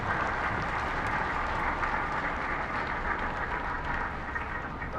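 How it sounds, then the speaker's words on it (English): A crowd gives continuous, full applause at the Galway intermediate hurling final celebration between Kinvara and Meelick Eyrecourt. The clapping is thick and even and stays at an unbroken level for the whole stretch. "so just give a round of applause"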